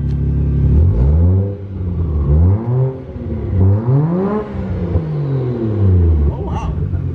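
A car engine revs repeatedly, its pitch rising and falling in several loud throaty surges close by, with brief voices mixed in.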